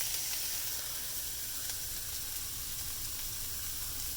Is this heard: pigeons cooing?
no